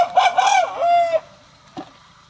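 A rooster crows once in a loud, drawn-out call with rising and falling pitch, then trails off, followed by a brief fainter sound near the end. No one speaks.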